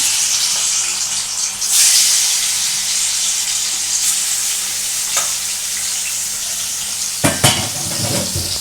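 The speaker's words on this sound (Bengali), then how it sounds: "আমি মাছটা ছাড়ছি, কড়ায় তেল চাপিয়ে দিয়েছি, এটাকে ছাড়ছি।" Bok fish hitting hot oil in a wok, setting off a loud, steady sizzle and hiss with occasional stirring clatters and a burst of pan scraping near the end.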